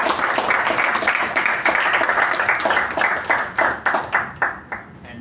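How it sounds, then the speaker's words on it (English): A room of club members at a Toastmasters-style meeting gives a sustained round of applause, dense clapping that holds steady and then thins into a few louder, separate claps before fading. "can we give a tremendous round of applause?"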